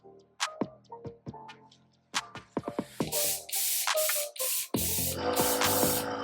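An airbrush gun being cleaned sprays in bursts after a series of sharp clicks and ticks, with the hissing jets growing longer and stronger until an almost continuous close spray.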